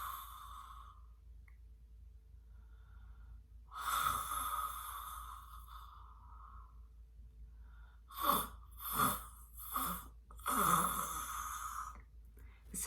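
A comedian imitates her husband's cavernous snore with her voice, producing a drawn-out rasping inhale and then a run of several throaty snorts in quick succession, close and fairly loud against a quiet background.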